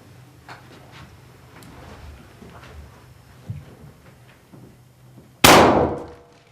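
A single sharp, loud gunshot bursts out near the end after a stretch of quiet rustling and small knocks, then rings briefly and fades.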